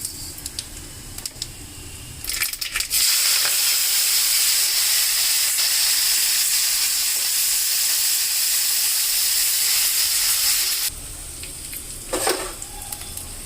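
Cumin and mustard seeds hit homemade ghee for tempering, bursting into a loud, hissing sizzle that lasts about eight seconds before dropping back to quieter crackling and clatter.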